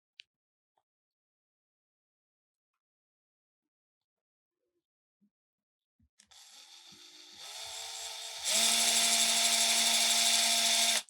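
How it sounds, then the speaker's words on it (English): A drill bores slowly through the metal cavity cover of a Hofner bass, starting after several seconds of near silence as a steady whine that grows louder and brighter, with no one talking. "I'm drilling slowly and not applying much pressure"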